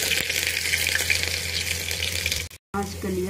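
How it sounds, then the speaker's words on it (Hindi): Fenugreek, cumin and ginger sizzle and crackle steadily in hot oil close up, a dense frying hiss that cuts out briefly before a clink and more sizzling. "अब इसमें डाल देंगे मेथी और जीरा, अदरक"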